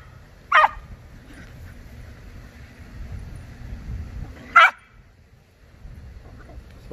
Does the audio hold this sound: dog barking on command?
yes